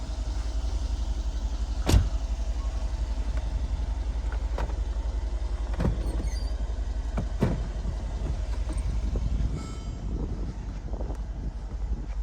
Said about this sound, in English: I actually struggled to figure out where the controls for the top were, but here you go.